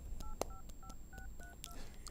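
Phone keypad tones beep as a PIN is entered at a shop counter, about eight short evenly spaced dual-tone beeps, faint and clear with no talking over them.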